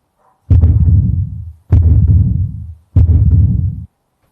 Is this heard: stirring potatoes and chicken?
no